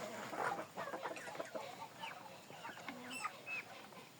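Roosters and chickens on a small poultry farm cluck and call in a busy, overlapping flock, with several sharp crowing and cackling bursts rising above the steady chatter.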